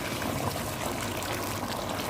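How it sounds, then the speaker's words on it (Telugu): Hot water from a kettle pouring into a pot of chicken soup, a steady splashing stream that runs unbroken and fairly close. "ఇదిగోండి కెటిల్లో వేడి నీళ్ళు చేసుకుని వేడి చేసుకుని పోసుకోవాలి నీళ్ళు"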